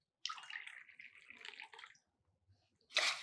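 Two cups of water being poured for herbal tea, a close splashing stream lasting under two seconds, then a pause and a short, brighter second pour.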